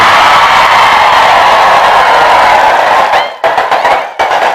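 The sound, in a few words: audience clapping at a sermon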